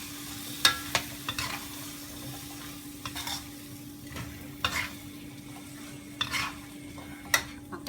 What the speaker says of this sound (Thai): ที่เราใส่สตอแล้วนะคะ เราก็ผัดต่อไปได้เลยนะ